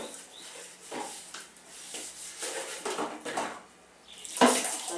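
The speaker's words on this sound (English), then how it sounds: "I'm cleaning the utensils." Pots, plates and cutlery are washed by hand in a kitchen with dry taps, producing intermittent quiet clinks, rubbing and small splashes, ending with a sharper metallic clatter.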